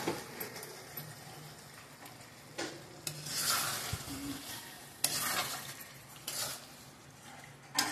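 A spoon scrapes and stirs through mashed potatoes as ground poppy seed paste with green chillies is mixed in a pan, giving soft, uneven scraping strokes with a few sharper clinks, close by and without talk.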